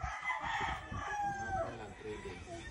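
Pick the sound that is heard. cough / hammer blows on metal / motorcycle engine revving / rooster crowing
rooster crowing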